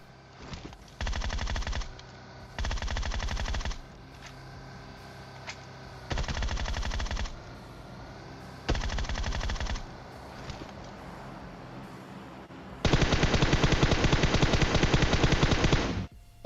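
Bursts of machine gun fire in a video game, four short rattling volleys at a steady spacing followed by one longer sustained burst, loud and close, with no talk over them.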